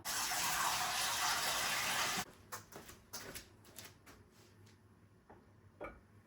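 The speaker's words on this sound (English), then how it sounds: "I'm going to get Poppy's dog bowl, like her water bowl, and I'm just going to fill it with fresh water" Water gushes steadily from a kitchen tap into a dog's water bowl for about two seconds, then shuts off, followed by a few small clinks and knocks nearby.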